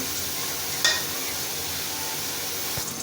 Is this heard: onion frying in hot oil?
yes